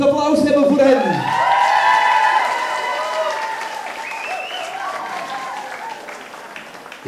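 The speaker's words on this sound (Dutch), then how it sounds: "Daarom zou ik graag een daverend applaus hebben voor hen." Guests at a wedding applaud a couple's opening dance. Broad clapping carries through the clip and fades gradually, while a voice and some tonal sounds stand out at the start.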